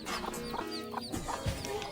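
Hens on a farm clucking in short, close bursts, several soft repeated clucks and a few higher squawks over a quiet background, fairly faint overall.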